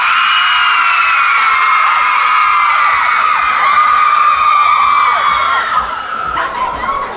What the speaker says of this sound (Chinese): 女生的朋友尖叫声。